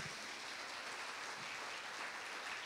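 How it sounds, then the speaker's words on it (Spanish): A Spanish-speaking church congregation at a Sunday service applauds steadily, a dense even wash of clapping filling the short stretch without pause. "Dele un aplauso al Señor."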